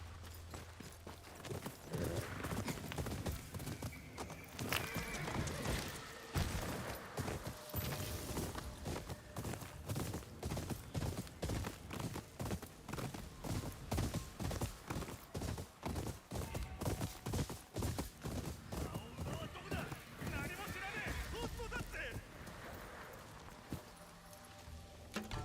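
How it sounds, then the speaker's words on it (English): Rapid, regular hoof clops from a horse at a steady trot in the video game Ghost of Yōtei, continuous and fairly soft, with no voices. "There's my horse."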